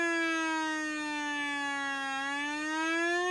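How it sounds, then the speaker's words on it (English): An electronic toy siren from a Kusan Sonic Fazer toy gun wails steadily, a buzzy rising-and-falling tone with rich harmonics, close and continuous for a few seconds without talk. "Sounds like a siren."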